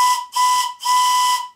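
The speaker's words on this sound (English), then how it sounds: "These whistles are made by my friend Chris English at CME Engineering" A loud model engineering steam whistle made by CME Engineering blows in three strong bursts, with a short pause after the first and a longer final blast tailing off in a steamy hiss.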